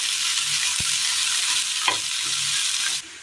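Ingredients for a Kerala curry sautéing in a pan, a loud continuous sizzle with a couple of brief spoon knocks against the pan, cutting off just before the end.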